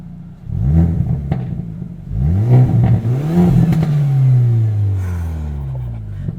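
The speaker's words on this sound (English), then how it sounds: "Let's start this up because I want to hear the exhaust idling a little bit." A Hyundai Elantra N in N mode revs its exhaust up and down in a series of rising and falling pulls, loud and close, with no talking over it.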